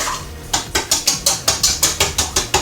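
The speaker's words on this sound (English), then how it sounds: "Now with that all in the bowl, we mix that up" Vanilla and egg yolks are mixed in a bowl for a hot cross bun butter pudding, giving a quick, steady run of evenly spaced scraping, clinking strokes with no talking.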